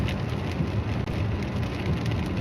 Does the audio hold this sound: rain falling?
yes